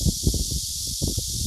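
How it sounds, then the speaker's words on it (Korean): The year's first cicada song, a loud, continuous, shrill buzzing drone held steady throughout, with rougher rustling pulses underneath. "하여 올해 첫 매미 울음"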